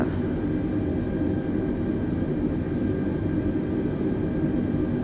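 Steady low engine drone and rumble of an airplane taxiing toward the runway in Microsoft Flight Simulator 2020, a continuous even hum with no talking.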